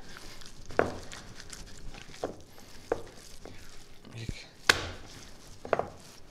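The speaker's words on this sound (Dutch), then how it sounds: "met een grote houten lepel of met propere handen, dat gehakt toch even gaan kneden" Minced meat being kneaded by hand: a handful of separate soft slaps and squelches at irregular intervals, close by, over a quiet room background.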